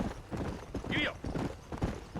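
Horse hooves gallop in the Red Dead Redemption video game, a steady rapid clip-clop close by that runs the whole time under speech, with a brief whinny-like cry near the middle.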